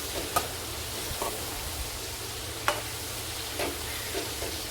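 Kerala-style jackfruit chips, seasoned with salt and turmeric, frying in hot oil: a continuous, moderately loud bubbling sizzle with a handful of sharp pops scattered throughout, alone with no voices.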